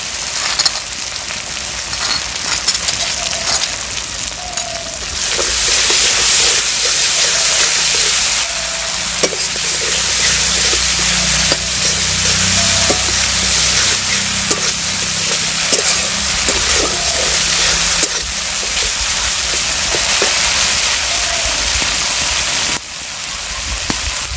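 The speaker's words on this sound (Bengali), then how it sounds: "মশলাটা ভালোভাবে ভেজে নিচ্ছি" Cumin and coriander spice paste fries in hot oil in a pan for a Bengali eggplant fish curry, giving a steady, dense sizzle with soft crackles that runs loud and continuous through most of the stretch.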